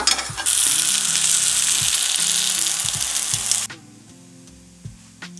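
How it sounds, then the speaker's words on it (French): Pancakes cooking on a raclette grill, with a loud, steady frying sizzle that suddenly cuts off and leaves soft clicks and faint handling sounds, heard alone under background music. "Retournons voir nos pancakes. Ah, ça y est, ça commence un peu à cuire."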